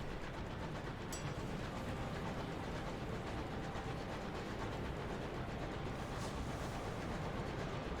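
A train moves steadily in the game Sunless Skies, a continuous rumbling rail drone with faint rhythmic clatter and a couple of brief higher hisses, low in level and without talk.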